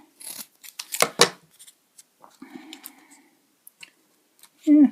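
Scissors crunch and snip through cardboard in a few short, close bursts, separated by quieter rustling and handling, with a brief vocal sound at the end.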